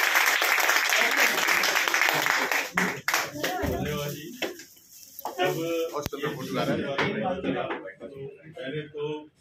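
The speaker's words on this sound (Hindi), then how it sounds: "जोर से ताली बजा दिए" An audience clapping loudly at a women's motivational speech event, dense applause that swells and fades, with a voice speaking over parts of it.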